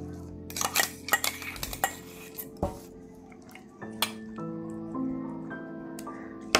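Bhetki fish is coated with spice paste in a bowl, giving quiet, close clinks and taps of a utensil on the dish, with scattered sharp knocks early and then softer mixing sounds, with no talking.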